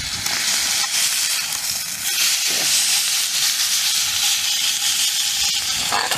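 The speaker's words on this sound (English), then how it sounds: "let me see if I can turn this steak over without any dramas" Steak sizzling and hissing steadily in a pan on a camp stove during stormy wild camping on Kinder Scout, a broad continuous fizz close by with a brief shift as the meat is turned over.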